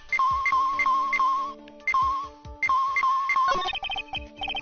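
A cell phone ringtone in Phoenix Wright: Ace Attorney, a bright repeating electronic melody in quick regular bursts, cycling several times before a faster run of beeps at the end, loud and alone.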